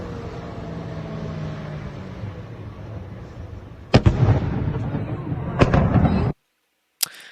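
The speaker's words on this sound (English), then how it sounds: "This is more video, a series of explosions in ammo depots, again, in occupied Luhansk." A series of explosions at an ammunition depot in occupied Luhansk: a loud, continuous rumbling roar broken by several sharp booms, heard at a distance, with the sound cutting out abruptly near the end.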